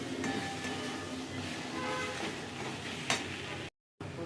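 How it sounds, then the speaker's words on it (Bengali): Masala and grated coconut stir-fried in a pan, a soft continuous sizzle with scraping stirs and one sharp clink near the end, then a brief cut to silence. "এবার আমি নারকেল কুচি রেখেছিলাম সেটা দিয়ে দেবো, কষে নেবো মশলাটার সঙ্গে"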